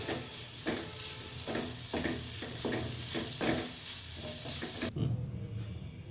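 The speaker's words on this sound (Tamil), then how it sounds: "இப்போ கொஞ்சமாக வெள்ளைத்தூள் ஆட் பண்ணி கிண்டி அடுப்பை ஆஃப் பண்ணிடலாம்." Gooseberry pickle stirred in a hot pan, a close, continuous sizzle broken by regular scraping strokes of a spoon, with the frying dying down sharply near the end.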